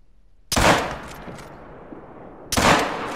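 Two loud .45-70 rifle shots in a hunting video game, each a sharp near blast with a rolling echo tail, spaced about two seconds apart.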